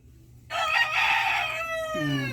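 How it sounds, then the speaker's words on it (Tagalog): Chickens making a loud, harmonic calling or crowing sound, up close outdoors, that rises suddenly and holds for about two seconds, with a lower call near the end. "Yung manok maingay."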